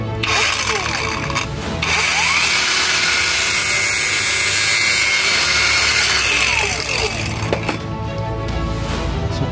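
An angle grinder cutting metal while a lifter is being fixed on a car, a steady high whine that holds loud and close for several seconds, easing off briefly at the start and end.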